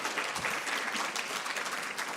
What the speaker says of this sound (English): I think let's give him a round of applause.